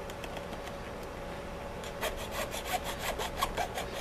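A hand saw rasps through wood in quick back-and-forth strokes, starting soft and growing louder and more rhythmic partway through, close by.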